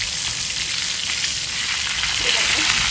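Fish frying on a flat tava sizzles loudly and continuously, a dense, close hiss of hot oil with small crackles throughout and no speech.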